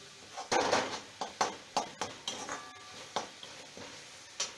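Pav bhaji mixture with a teaspoon of salt frying in a pan, heard as a run of scraping, clinking stirs with a light sizzle underneath, about a dozen strokes in an uneven rhythm, close and moderately quiet.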